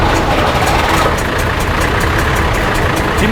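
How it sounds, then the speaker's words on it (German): Engines of historic cars starting up and idling at the Historische Deutschlandfahrt 2021 classic car rally, a steady, loud, dense engine rumble that runs throughout without pause. "Die Motoren starten so langsam."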